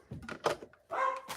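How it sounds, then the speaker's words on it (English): Dogs bark in a home sewing room, several short yelps and barks in quick bursts with a sustained whine or howl in the middle, close and moderately loud. "I am so sorry about the barking dogs."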